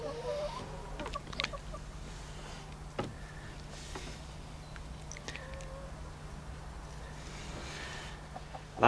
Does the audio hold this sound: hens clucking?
yes